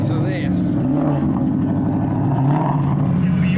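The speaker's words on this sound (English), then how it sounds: "We've got replica of the Need for Speed E46 and the Ford Mustang race car passing by." Ford Mustang race car passing by at a modified car show, a loud engine drone that swells and fades, with a voice talking over it and a short high squeal early on.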